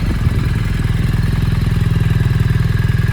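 A BMW R1300 GS motorcycle with a Stage 2 tuning map and velocity stacks idles smoothly after a cold start, a close, loud, even low pulsing rumble with a steady mechanical clatter over it.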